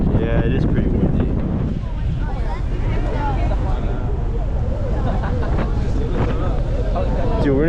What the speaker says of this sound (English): Right now, windy it is, Rob. Yeah, it is pretty windy.